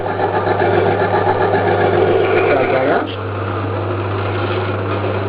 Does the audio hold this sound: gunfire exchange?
no